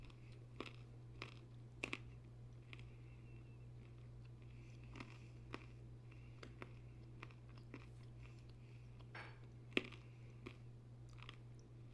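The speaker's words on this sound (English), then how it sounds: "I'm going to finish chewing so things aren't nasty" Someone chews a handful of nuts close to the mic, giving faint, scattered crunches and bites at an irregular pace over a steady low hum, with no talking.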